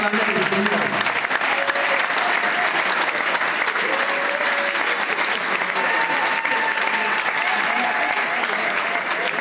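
A large crowd at a political group's official launch event applauds loudly and continuously, with cheers and voices mixed into the steady clapping throughout.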